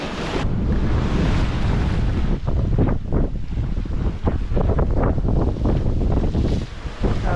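Strong wind buffets the microphone while a sailboat runs at 15 knots off the Bijagós islands in Guinea-Bissau, with the rush and slap of the sea against the hull under a constant roaring gust.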